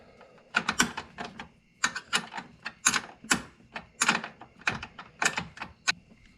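Rapid ratcheting clicks in bursts as a bolt is tightened with 19 and 14 wrenches while a harness is installed on a CFMOTO ZForce 950, close and crisp with short pauses between runs.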